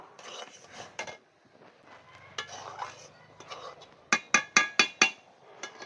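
A cooking pot of kalakand sweet comes off the stove with metallic clinks and scrapes, ending in a rapid run of five sharp, ringing knocks of metal on metal.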